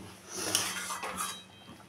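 A pot of cauliflower-potato curry finished with ghee is lifted off the stove, giving a few soft metallic clanks and scrapes, faint and close, with no speech.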